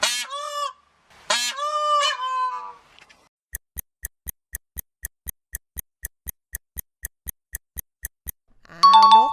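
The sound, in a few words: peacock call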